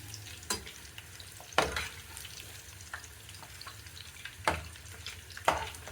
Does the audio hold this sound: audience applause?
no